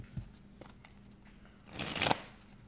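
Playing cards get a faro shuffle on a table, with a few faint ticks and then a quick, crisp riffling burst of cards close by in a quiet room.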